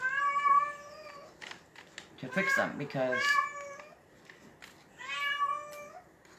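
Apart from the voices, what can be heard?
cats in heat meowing and yowling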